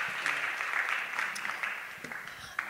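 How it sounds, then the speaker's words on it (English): Audience applause at a conference session on disrupting a large food company from within, a steady broadband patter of clapping from a crowd, fairly even in level and tapering slightly toward the end. "Let's give them a round of applause."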